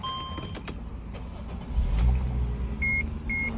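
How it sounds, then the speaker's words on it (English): A Mercedes C300 is switched on, with soft electronic beeps and a short chime followed by the engine starting and settling into a low hum, close and quiet, with no talk. "Let's turn the car on."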